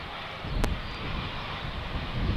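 Jet airliner landing on runway 18R at Amsterdam Schiphol, a continuous broad engine and air roar held at steady loudness throughout, with no voices.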